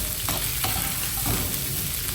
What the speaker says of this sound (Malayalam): ക്യാപ്സിക്കും ഗ്രീൻ ചില്ലിയും ആഡ് ചെയ്തിട്ട് എന്നിട്ട് അത് നന്നായിട്ട് ഒന്ന് മിക്സ് ചെയ്ത് കൊടുക്കുന്നുണ്ട്.